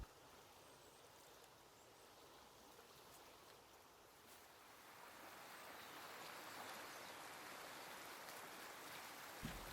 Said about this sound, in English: I made my way down to this lovely swim, which contained some fast-flowing water